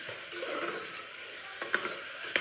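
Light sizzling of beans palya frying in a pan, a soft crackling hiss with a few sharp spoon clicks and stirring scrapes near the end, no voices.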